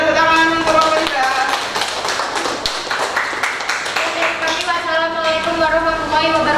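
Classroom of students applauding a presenting group, a brief burst of dense clapping under and around spoken voices and music-like tones.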